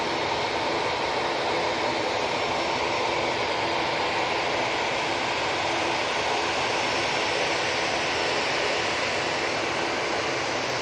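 Qatar Airways jet departing Manchester Airport for Doha, heard as a steady, broad roar of engines holding at an even level throughout, fairly distant and without voices.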